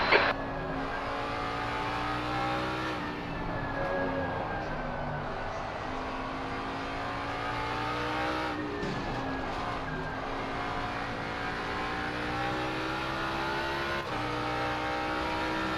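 Race cars in Assetto Corsa Competizione's vintage class at Suzuka, a loud, continuous engine drone that rises and falls through gear changes as the car closes on a slower one, with no talk.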